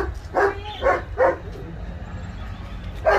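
Several dogs bark in a quick series of four sharp woofs, fairly close, with a pause before a final bark. The scene is an outdoor family visit in San Diego.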